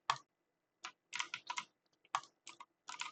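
Keys on a computer keyboard clatter in short irregular bursts of clicks during gameplay, each flurry close and crisp, separated by brief silent gaps.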